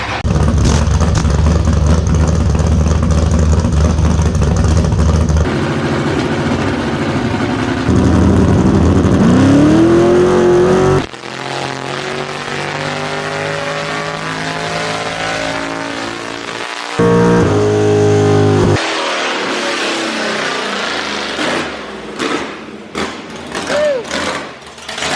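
A Jeep on a chassis dyno revs hard through a full pull, its loud engine roar climbing in pitch with gear changes and stopping abruptly several times, with people talking and shouting nearby.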